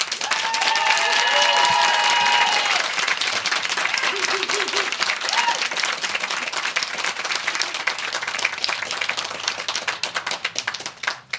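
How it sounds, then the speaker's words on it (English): An audience at a graduates' pinning ceremony bursts into loud, sustained applause with a few whistles early on, the clapping thinning slightly toward the end. "can we just start, because our graduates are so deserving, with like our loudest round of applause we can for them?"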